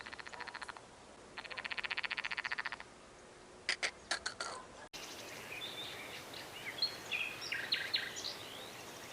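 Frogs croaking in rhythmic pulsed trills, then a chorus of overlapping croaks and calls, moderately distant in an outdoor setting by fishing water.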